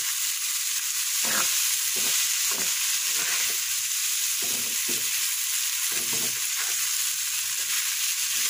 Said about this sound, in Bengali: বরবটি সিম ভাজি করলাম।